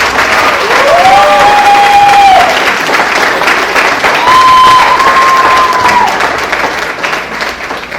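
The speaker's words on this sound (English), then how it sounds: "So, round of applause." Audience at a school co-curricular awards ceremony applauds loudly and steadily for the full eight seconds, a dense wash of clapping with whistles rising above it.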